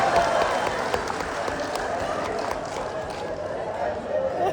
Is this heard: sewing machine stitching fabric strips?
no